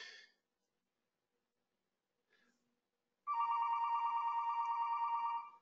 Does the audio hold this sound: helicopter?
no